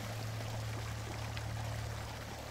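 Steady, continuous rush of falling water in a peaceful Rivendell valley setting, a soft even wash with a low hum beneath, constant throughout with no voices.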